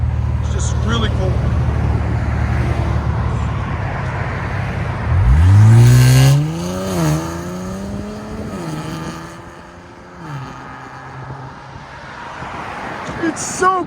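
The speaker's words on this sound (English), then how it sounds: "This is with valves closed, guys. Drive by." A drive-by of an Infiniti Q60 with a 3.0L twin-turbo V6 and its exhaust valves closed, a loud surge rising as it passes close, then fading into a quieter engine tone, with people talking around it.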